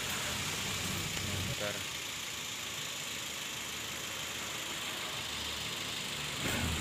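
A Toyota Rush engine idles roughly and shakes with one spark plug connector pulled, a steady, continuous mid-pitched drone close by with no speech over it.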